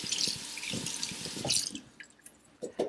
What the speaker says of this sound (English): I'm going to rinse my brush off here from the egg wash